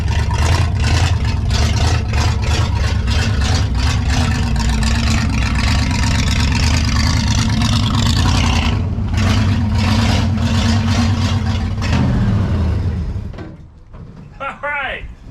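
A junkyard Chevy Impala wagon engine with a straight pipe, running rough on three cylinders, loud and close with an uneven lumpy pulse for about twelve seconds before cutting out; a voice speaks over it.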